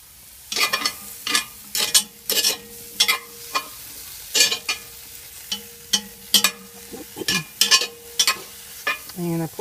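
Garlic and other bits frying in leftover grease in a pan, with repeated bursts of sizzle and stirring clatter in an irregular rhythm over a steady low crackle, close up.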